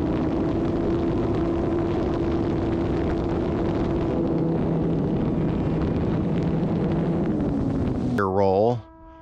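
RC trainer airplane electric motor at full throttle during climbs and rolls, a loud steady droning whine with shifting pitch, ending in a sharp rising and falling sweep as it fades.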